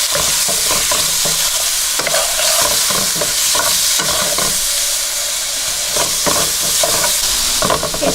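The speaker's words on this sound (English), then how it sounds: "you want to stir this up for about 4 to 5 minutes on medium heat" Squid, scallops and noodles stir-fry in a pan over medium heat, a loud continuous sizzle broken by repeated close scraping and clattering strokes of a utensil, with no talking.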